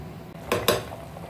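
A metal lid set down on a cooking pot of Arab-style badawi beef, giving two quick clanks close together, loud and near, with no talk.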